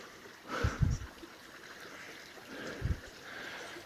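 A small branch of a creek runs over a sandy bottom in the woods, giving a steady, soft wash of flowing water with a couple of brief low thumps near the start and end.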